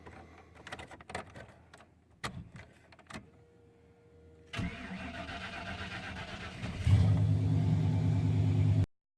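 An old $400 truck, started with a wired key, cranks after a few scattered clicks and knocks, then catches and settles into a loud, steady idle that cuts off abruptly. Close up, with no talking.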